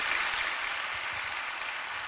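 A church congregation claps together during a worship service, a brief, steady patter of many hands at moderate distance with no talking over it.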